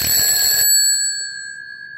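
Bells of an unusual sonic alarm clock ring in a loud, dense burst for about half a second, then several clear tones keep resonating and slowly decay, close and alone.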